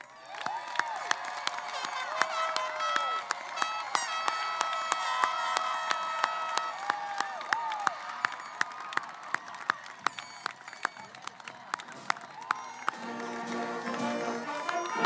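A large crowd at a 2017 high school graduation ceremony applauds and cheers continuously, a dense wash of clapping with scattered sharper claps and whoops throughout.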